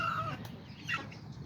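Young kikiriki or Azteca roosters cluck softly in a pen, with a couple of short high calls over a low background murmur.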